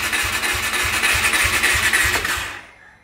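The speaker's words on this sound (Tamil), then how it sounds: "வண்டி ஸ்டார்ட் ஆக மாட்டேங்குது" A KTM 390 Adventure motorcycle with a battery problem fails to start: close, rhythmic cranking pulses chug for over two seconds, then stop abruptly without the engine catching.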